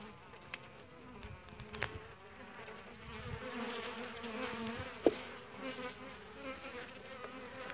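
Honeybees hum on a hive frame of a weak colony, a close, continuous buzzing swarm of wings with a few sharp clicks and knocks from handling the frame.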